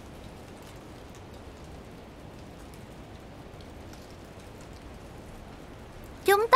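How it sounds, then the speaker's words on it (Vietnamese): Steady rain with strong wind in a cartoon, a continuous even wash of noise that holds through the scene, then a brief burst of louder sound right at the end. "Ồ, bỗng dưng trời mưa và gió to quá."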